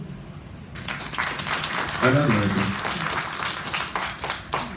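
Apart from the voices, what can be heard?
audience applauding to welcome a speaker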